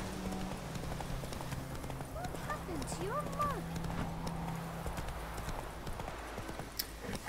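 Horse hooves clip-clop steadily in The Witcher 3, a rhythmic gallop running under a bed of game ambience with faint whinny-like calls.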